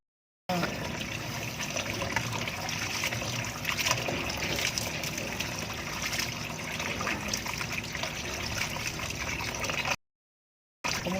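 Water runs steadily from a tap in a broad, constant rush that continues for about ten seconds, then cuts off abruptly and briefly resumes.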